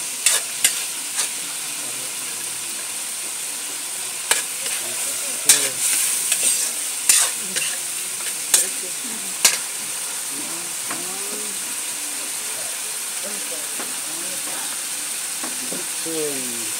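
Sea cucumber adobo with miso and black beans stir-frying in a pan: a steady sizzle under sharp, scattered clacks of a utensil stirring and scraping, close and moderately loud, with a faint voice briefly in the background.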